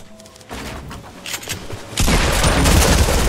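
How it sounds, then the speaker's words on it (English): Grenade launcher fire in a Fortnite team rumble match: a burst of explosive blasts and gunfire that grows sharply louder and denser partway through, ending in a sustained roar of booms close by. "Oh, he's trying to grenade launch me."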